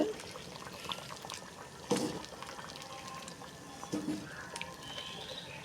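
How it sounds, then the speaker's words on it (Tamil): Sambar bubbling in a pot on the stove, a soft continuous simmer with faint popping bubbles, close and fairly quiet, with a couple of louder bursts and no talking. "குழம்பு பார்த்திங்கன்னா ரெடி ஆகிடுச்சு. பாருங்கள், நல்லா கொதிச்சிட்ருக்கு."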